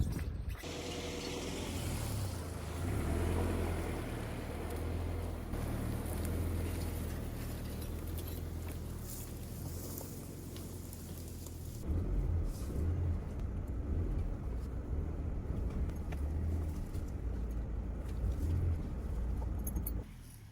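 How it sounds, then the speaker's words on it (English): A car drives slowly around an off-grid building site, with a steady low engine rumble and rattling, clunking mechanical noises of the vehicle moving over rough ground, louder bumps toward the end. "Let's drive the car around it"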